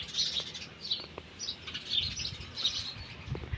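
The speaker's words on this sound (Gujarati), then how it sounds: "આમાં છે ને ચકલા એવા અહીંયા થઈ જાય ચકો બેઠો જો" Sparrows chirping in short, bright repeated bursts at a moderate distance, with soft rustling in between and no voices.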